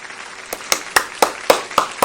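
Applause from the audience at the ASA Snowmobile Excellence Awards 2020 ceremony, heard as a steady run of about eight sharp, evenly spaced claps over a quiet room background.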